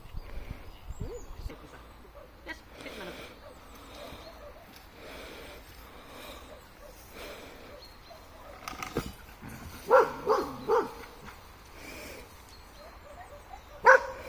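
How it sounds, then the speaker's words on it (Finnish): A dog barks and whimpers in short bursts during dog training in Kuopio, with louder yips near the end over low background noise and faint voices. "Kutsu vaan koira."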